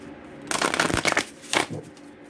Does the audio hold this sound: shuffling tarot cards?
yes